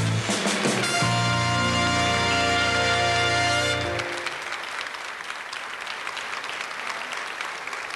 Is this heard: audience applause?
yes